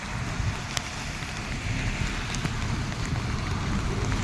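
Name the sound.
heavy rain on the road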